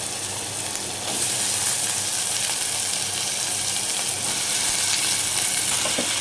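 Brinjals frying in hot oil with fenugreek leaves, a dense, steady sizzle that jumps louder as the pieces go in and then holds a constant crackling hiss, close up with no talking.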